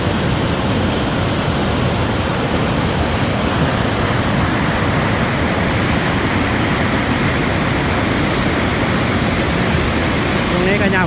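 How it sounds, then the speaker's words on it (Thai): A forest stream in a Thai lowland valley rushes steadily and loudly at close range, a dense, unbroken wash of flowing water that holds an even level throughout. "น้ำไหล"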